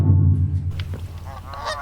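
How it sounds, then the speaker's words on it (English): Geese in a Minecraft modpack give a loud, low honk right at the start, followed by several fainter, scattered honks. "these are just random geese that I found around my observatory"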